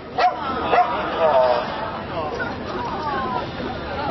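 A dog gives a few short, muffled barks and yips early on, then a softer whimper, heard at moderate distance in a home. Background chatter and voices continue throughout.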